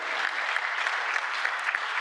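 An audience bursts into applause at a Brazilian presidential announcement of new PAC infrastructure program results. The clapping is thick and continuous, from many hands at once, filling the whole short stretch.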